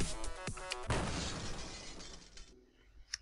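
A glass-shattering crash effect plays in a Pygame video game: a sharp broadband smash with bright tinkling debris that decays over about two seconds, followed by a faint trailing tinkle, with no talking.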